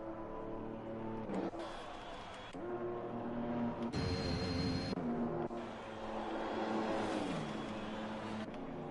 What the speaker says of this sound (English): Oh, that was a normal sounding car.